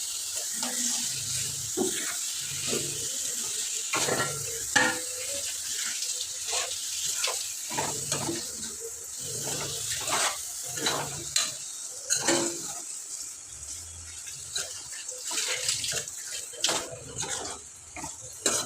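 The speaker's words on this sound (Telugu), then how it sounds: "ఇప్పుడు బాగా కలుపుకున్నాము చికెన్" Chicken curry with chilli powder and salt being stirred in a pan, a steady sizzle under repeated scraping strokes of the spoon, with faint water running nearby.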